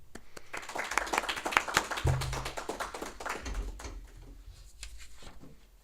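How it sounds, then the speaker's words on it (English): Audience applause at a public book festival reading, a burst of clapping from a crowd in a room that rises and then gradually thins out, heard alone without speech. "Please give a round of applause for Joshua Gray."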